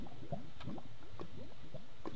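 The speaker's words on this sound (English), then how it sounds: "That's the sound of lava." Bubbling lava in the Minecraft video game: soft, repeated liquid pops and gurgles recurring every half second or so, moderately quiet and steady, with no talking.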